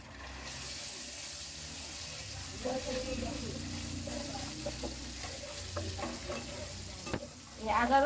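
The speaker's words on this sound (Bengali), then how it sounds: "এই আদা রসুন আমি তেলের মধ্যে কিছুক্ষণ ভেজে নিব" Ginger garlic paste and garam masala sizzle steadily in hot oil, a soft continuous frying hiss with occasional stirring clinks and scrapes; a voice speaks briefly near the end.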